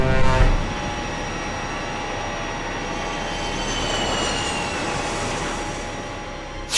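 A steady, loud jet-engine roar builds as a B-52 bomber takes off in a Lego animation, a continuous droning whine that swells slightly midway and holds with no voices.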